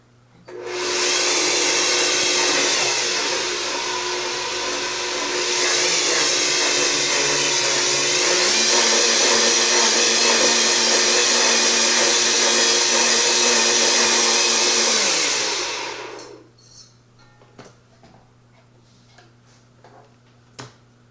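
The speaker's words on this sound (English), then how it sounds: "back to the blender it goes" A blender blending chocolate runs loud and steady for about fifteen seconds, its motor pitch shifting midway under load, then cuts off, leaving faint clicks and clatter.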